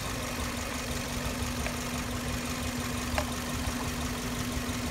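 A car engine idles roughly with a cylinder misfire from a bad ignition coil, giving a steady close drone with a low hum and uneven pulsing, plus a faint click partway through.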